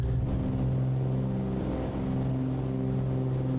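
Twin piston engines of a FlySimWare Cessna 414 at full takeoff power in Microsoft Flight Simulator, a steady droning engine hum with strong low harmonics, continuous and unbroken.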